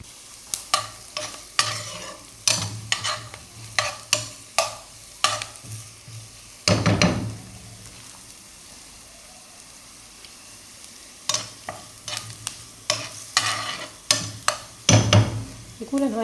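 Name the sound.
stirring and frying onions with vermicelli and raisins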